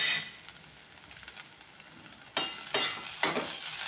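A grated potato stir-fry with added salt being stirred in a pan, soft sizzling throughout with three sharper scraping strokes of the spoon toward the end.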